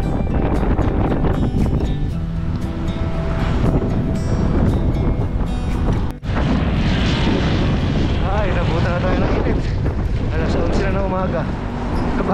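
Strong gusting wind buffets the microphone of a cyclist riding the Laguna loop near Lumban, a loud continuous roar with brief drops, while someone talks over it.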